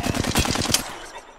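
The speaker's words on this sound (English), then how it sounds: "There are people shooting at us" Rapid automatic gunfire from a video game, a close, loud burst of evenly spaced shots that trails off into a fading echo.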